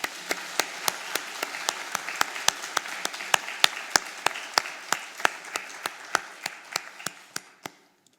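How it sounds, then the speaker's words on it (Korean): A congregation at an Easter church service claps in unison, a steady rhythmic beat of sharp, loud claps with a light spread of applause underneath, slowing and ending after about eight seconds. "우리에게 부활 생명을 주신 하나님 앞에 감사하며 영광의 박수를 올려드리십시다"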